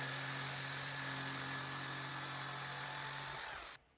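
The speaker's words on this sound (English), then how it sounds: "cut it out using a jigsaw on the individual boards" A jigsaw cuts through individual wooden boards for a Halloween woodworking project, a steady buzzing motor whine holding loud and even for several seconds before it abruptly stops near the end.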